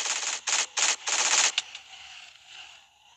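Rapid bursts of automatic gunfire against zombies in a video game zombie mode, three or four loud close volleys in quick succession, then a fading tail.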